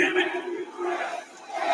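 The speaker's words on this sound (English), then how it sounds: "This crowd is actually thanking Chris Jericho" A wrestling arena crowd chants in unison to thank Chris Jericho, a loud rhythmic roar of many voices rising and falling in phrases, with one voice speaking over it.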